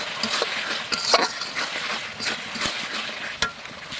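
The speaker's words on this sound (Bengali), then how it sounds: "আমি এখন এই কষানোর ভেতরে রাঁধুনি মাংসের মশলাটা পুরো দিয়ে দেবো" Rādhuni brand meat masala spice mix fries in oil in a pan during kashano before goat meat is added, a close, steady sizzle broken by brisk stirring scrapes and light utensil clicks, no voices.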